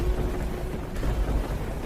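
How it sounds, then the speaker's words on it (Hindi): Heavy rain falls at night in a cartoon, a steady, loud, dense downpour with a rumbling low undertone throughout and no voices. "अचानक से रात को तेज बारिश शुरू हो जाती है"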